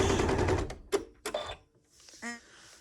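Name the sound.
sewing machine backstitching quilt pieces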